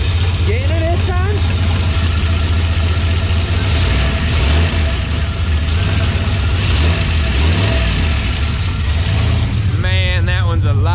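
A car engine idles in a garage, a loud, steady low rumble with some rising revs partway through, while people talk faintly in the background.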